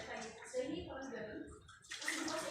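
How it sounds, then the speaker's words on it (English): Water runs and splashes softly as it is poured over a patient's hair during shampooing, a steady gentle flow with quiet handling sounds. "Just going to water her hair"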